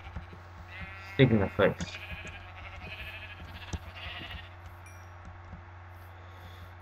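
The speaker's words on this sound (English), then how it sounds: "Oh, there's a sheep." A sheep in modded Minecraft bleats in two quick close calls, followed by faint game clicks, while someone talks over the sounds.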